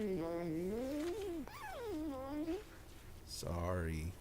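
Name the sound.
cat meowing in the video game Stray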